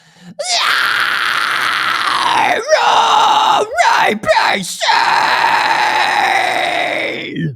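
A head voice fry scream is demonstrated: a raspy, high, distorted vocal scream held loud and close for several seconds, with a few brief breaks and pitch dips midway.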